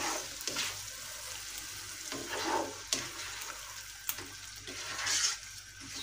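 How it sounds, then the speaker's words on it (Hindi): Yogurt mixture for chicken seekh kabab biryani frying in a pan, a steady soft sizzle with faint stirring scrapes and a few brief clinks, close and moderately quiet with no talk. "इसको तकरीबन हम 2 से 3 मिनट अच्छी तरह हम इसको भून लेते हैं।"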